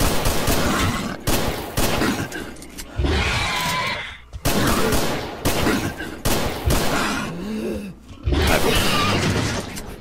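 Pistol shots crack repeatedly at a mutant in STALKER Call of Pripyat, loud close reports in quick clusters with brief gaps, mixed with impact and growling creature noises.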